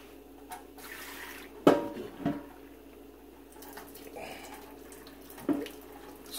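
Water from a pot of cooked pasta is poured off through a gap under the lid into a sink, a steady splashing rush broken by a few sharp clanks of metal, close by, with no talk.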